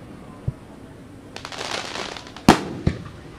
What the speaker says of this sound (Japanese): 今一箇所からね順番に上がってきている状態なんですけど、結構大きい花火ねたくさん咲いてますね。